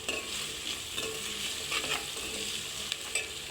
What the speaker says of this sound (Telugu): ఇది ఉల్లిపాయలు, పచ్చిమిర్చి దోరగా వేగిన తర్వాత పసుపు యాడ్ చేసుకోవాలి.